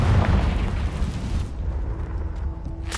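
Spell explosions from Bombarda and Confringo in Hogwarts Legacy: a loud, deep blast that rumbles and then decays into a fainter sustained rumble, with a couple of lighter pops near the end.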